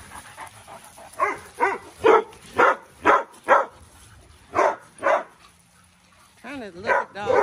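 Several dogs bark in a quick series of close, loud barks and yips, about a dozen in bursts with short pauses between them.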